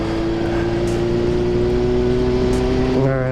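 A 1975 Honda CB750 motorcycle engine holds a loud, steady high-revving drone close by, its tone rising slightly near the end, with no talking over it.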